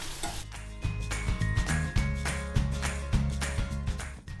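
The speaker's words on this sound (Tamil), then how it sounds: "ரெட் சில்லி பவுடர், நல்லா மிக்ஸ் பண்ணிவிட்டு மூடி வச்சிடலாம்" Red chili powder and turmeric are stirred into a simmering bonda mor kuzhambu, buttermilk curry, with rhythmic ladle knocks and scrapes against the pot over a soft bubbling sizzle, repeating steadily at close range.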